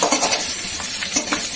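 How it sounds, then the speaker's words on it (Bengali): A fish head fries with pumpkin and Malabar spinach in a pan for a vegetable ghonto: a steady, loud sizzle fills the whole stretch, with faint scraping of stirring. "সবকিছু দিয়ে মাছের মাথা এই যে ভাজতে দিয়েছি"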